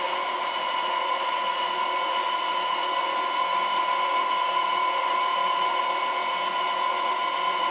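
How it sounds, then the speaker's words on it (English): An electric mixer beats peanut butter cookie dough, giving a steady, continuous motor whir with a high whine that holds at an even level throughout, with no voices over it. "we're going to give that a little bit of a mix"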